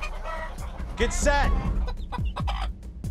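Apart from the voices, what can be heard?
chickens clucking in a barn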